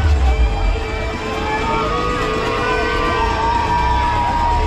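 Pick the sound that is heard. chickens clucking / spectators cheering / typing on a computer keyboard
spectators cheering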